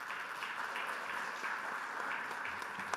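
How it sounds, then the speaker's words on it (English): Audience applause for the speakers at a carbon capture (CCUS) conference session, a steady, moderately quiet wash of clapping that continues evenly throughout without talk over it. "let's have a round of applause for our great speakers today"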